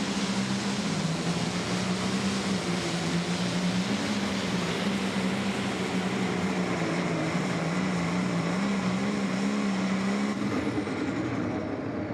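A red International pulling tractor, the Hickory Hooker, runs under full power in a Pro Stock tractor pull, giving a loud, steady, unbroken engine roar that holds for the whole stretch and eases slightly at the end.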